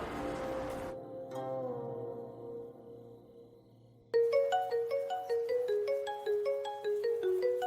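A melodic electronic ringtone plays a repeating pattern of bright chiming tones, loud and close, following a softer sustained tone that fades out.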